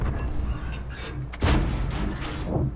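M4A3E2 Sherman Jumbo tank gun in World of Tanks, firing rapidly: several loud booming shots in close succession over steady engine and battle rumble.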